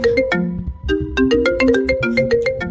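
A mobile phone ringtone plays a bright, repeating melodic pattern of short electronic notes, loud and close, ringing alone without any voices over it.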